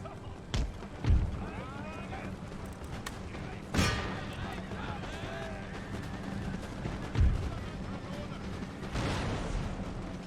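Cannon artillery fire in the Empire: Total War battle game, several sharp booming blasts spaced seconds apart over a constant battlefield din.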